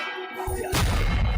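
The Expelliarmus spell being cast in the game Hogwarts Legacy: a short rising whoosh that ends in a loud crashing impact with a metallic ring, followed by a rumbling boom.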